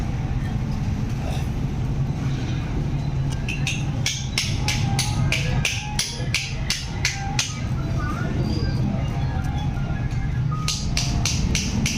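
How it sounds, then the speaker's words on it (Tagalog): Rapid metallic tapping and clicking as screws are tightened on a Yamaha Aerox/NMAX scooter during a ceramic part install, over steady loud background noise, with occasional voices. "higpitan nyo na yung mga tornilyo dito"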